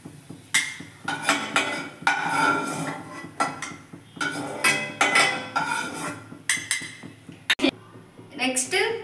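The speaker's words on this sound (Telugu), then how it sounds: "దీన్ని ఒక బౌల్లో వేసేసుకోండి." Roasted rava for rava laddu being tipped into a bowl, with repeated clinks and scrapes of a metal pan and spoon against the bowl under ongoing talk.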